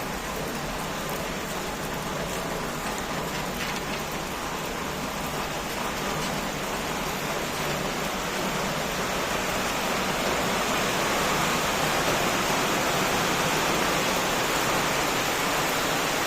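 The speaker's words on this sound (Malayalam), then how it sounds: "നല്ല മഴയായേ." Heavy rain pours down in a steady, dense hiss that stays loud and unbroken throughout, with no voices.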